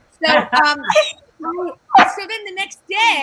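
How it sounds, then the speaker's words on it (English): A pet dog barks and whimpers in short yips around a person talking close by, the dog sounds overlapping with the speech in quick bursts. "That's my dog."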